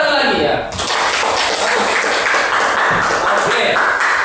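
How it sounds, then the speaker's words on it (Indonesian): A group of people clapping hands together in a classroom, a dense steady patter that starts abruptly and carries on evenly at close range. "Tepuk tangan lagi ya."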